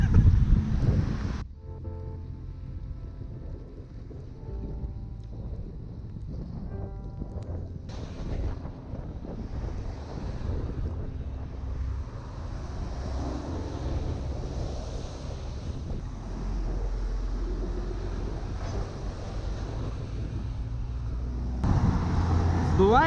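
Blustery wind roaring across a microphone as a bicycle rider passes between trucks on a rainy highway, a constant loud buffeting rush with heavy low rumble, broken by brief dropouts and a stronger gust at the end.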